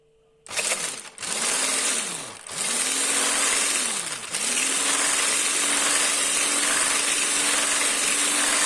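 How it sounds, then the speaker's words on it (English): Whipping cream beaten in a bowl with an electric mixer, a steady high whir that starts abruptly, briefly stops and restarts a few times, then runs on continuously, close by. "Whisk that up."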